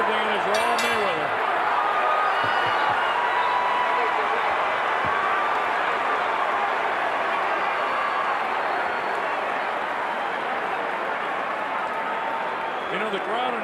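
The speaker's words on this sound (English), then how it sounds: "the crowd in attendance, while it's primarily an Ortiz crowd, they appreciate what they're seeing" Boxing arena crowd at a Floyd Mayweather vs Victor Ortiz fight, cheering and murmuring in a dense, continuous wash of noise, with commentary voices running over it.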